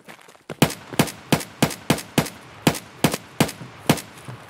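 Sharp gunshots from Escape from Tarkov ring out in a rapid, slightly irregular series of about a dozen loud, close reports, each cracking sharply with a brief echoing tail.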